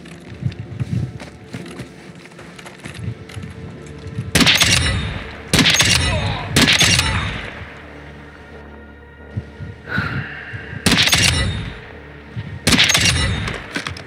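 Gunfire in the video game Call of Duty Modern Warfare 2 DMZ: loud, close bursts of automatic fire, several separate volleys spaced by short pauses with quieter background between them.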